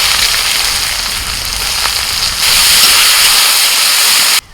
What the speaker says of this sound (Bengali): তেলের মধ্যে ফোড়নে দিচ্ছি তেজপাতা শুকনো লঙ্কা এলাচ দারচিনি লবঙ্গ গোটা জিরে ফোড়ন হয়ে গেছে দিয়ে দিচ্ছি পেঁয়াজ কুচি